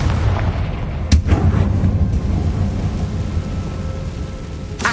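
A Confringo spell blast fired in a Harry Potter video game, a single sharp explosive boom about a second in that rolls into a broad rumbling decay over steady low background noise, with a second burst starting right at the end.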